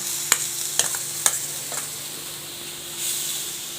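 Grated coconut sautés in ghee for a modak filling, giving a soft continuous sizzle with a few sharp clicks of the spatula against the pan early on.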